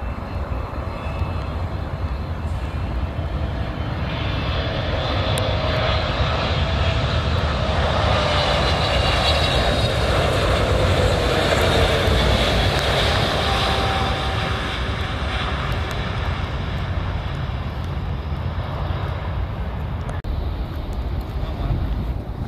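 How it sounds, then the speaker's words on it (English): An airplane passes during rainy plane spotting at Miami, a loud, steady jet roar that swells and fades over about twenty seconds, mixed with rain and wind noise and no talking. "Plane spotting in the rain for my viewers."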